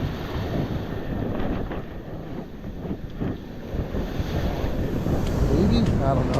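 Ocean waves at a beach wash in a continuous roar of surf with wind buffeting the microphone, steady and close throughout.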